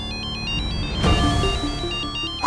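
A phone ringtone plays loudly, a repeating electronic melodic pattern of bright beeping tones that continues steadily with a brief noisy swell midway and no talk over it.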